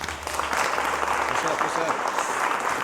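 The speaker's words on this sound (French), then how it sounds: "on peut l'applaudir bien fort" An audience gives dense, continuous applause for a dancer at a dance competition, with talking heard through the clapping.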